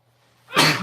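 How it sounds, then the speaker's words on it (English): A single loud, close sneeze bursts out after a quiet moment, its sharp broadband blast trailing off briefly, with nobody talking. "I'm about to have to sneeze."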